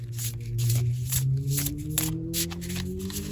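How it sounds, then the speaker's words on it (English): Tarot cards being shuffled by hand, a run of soft, papery riffling bursts repeating close up over a low steady hum. "One more shuffle."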